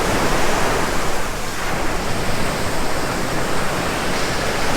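Ocean surf at Nimitz Beach on Oahu rolls in as a steady, loud wash of broadband noise, with one wave surge easing slightly midway before the roar builds again, no voices present.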